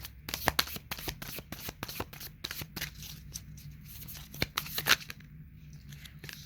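Tarot cards being shuffled by hand up close, a run of crisp riffling flutters and taps in uneven bursts, with a faint low hum underneath and no talking.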